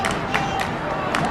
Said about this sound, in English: Adams State runners cheering field on